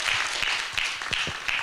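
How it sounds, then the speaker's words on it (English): A short burst of audience applause at a real-estate seminar, with dense clapping at close range. "a round of applause."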